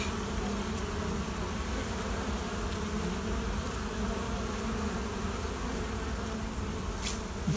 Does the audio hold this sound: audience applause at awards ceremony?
no